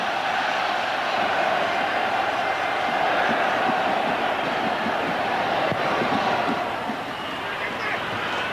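A football stadium crowd roars in support of the Welsh team during a 1993 match, a loud sustained wash of cheering and chanting with commentary heard over it.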